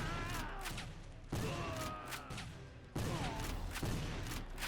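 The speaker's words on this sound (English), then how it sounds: "I'm going to finish these guys off with my heavy rifle." Gunfire from a heavy rifle in the Civil War: Secret Missions video game comes as loud, repeated shots with sharp onsets, dense and close amid a busy battle mix.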